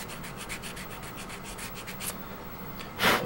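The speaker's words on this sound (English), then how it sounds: "So I'm just using the side of the file because it has a good friction part." The side of a metal file rubs against small plastic army men, giving a fast, steady series of close, scratchy back-and-forth strokes, with one louder scrape at the end.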